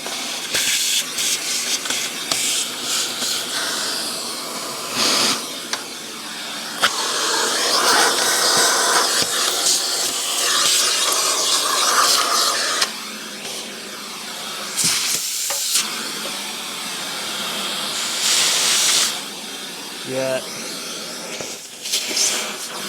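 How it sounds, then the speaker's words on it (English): A central vacuum hose running through a Rainbow D2 power nozzle, giving a steady broadband rushing roar that holds for over twenty seconds, with brief dips and surges as the nozzle moves and debris is sucked up. "A little bit of central vacuum love,"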